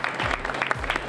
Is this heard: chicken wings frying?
no